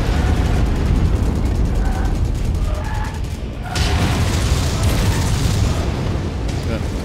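A heavy bombardment in a video game makes a dense, continuous roar of rumbling explosions with no clear gaps. It stays loud throughout, and a voice seems to come through faintly beneath it.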